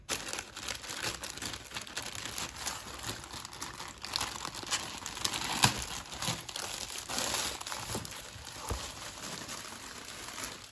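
Packaging around a new Sony ZV-1 vlog camera crinkles and rustles steadily as it is unwrapped, a close, continuous crackle of plastic and paper with no talk.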